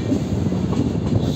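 A Madurai–Tirupati summer special express train runs steadily with a continuous rolling rumble and rattle from inside the carriage. No voices are heard.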